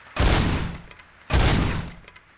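Two loud, close gunshot bursts from RoboCop: Rogue City, each a sharp attack with a ringing tail, spaced about a second apart on a shooting range, with no talk over them.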